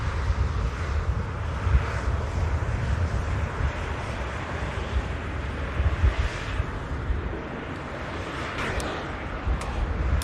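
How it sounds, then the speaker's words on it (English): An Emirates Airbus A380 at Manchester Airport, a broad, continuous jet engine roar with wind buffeting the microphone, steady and fairly loud throughout with no voices. "But that's the biggest aircraft you're going to see here at Manchester."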